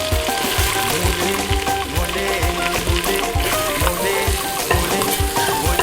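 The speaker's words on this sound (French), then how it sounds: "dans la casserole, avec l'huile, je mets l'oignon" Steady sizzling of onion frying in hot oil in a saucepan, with soft stirring clatter and no talking.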